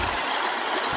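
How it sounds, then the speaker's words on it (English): Water running across a dirt road on a ridge of the Mt Thorn range, a steady broadband rush heard up close with no break for the whole second. "There's a river on the road here."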